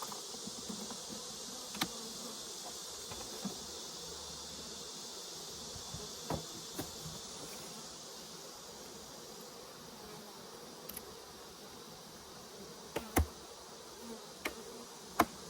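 Bees and other insects drone in a steady, faint outdoor buzz while honey is pulled from hives on Independence Day, with a few soft clicks and taps scattered through.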